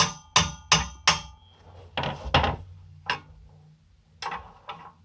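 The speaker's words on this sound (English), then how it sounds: "if you think I'm not gonna hit this with a hammer, you got another thing coming for you" A hammer strikes metal near the driveshaft of a Jaguar XJR in a garage, with a quick burst of three sharp blows followed by scattered, uneven hits, close and loud with no talking.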